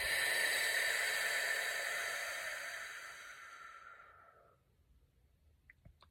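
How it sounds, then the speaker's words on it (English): A long, steady breath pushed out through pursed lips during a deep breathing exercise, a close breathy hiss that slowly fades out over about four seconds, followed by quiet. "Exhale through pursed lips."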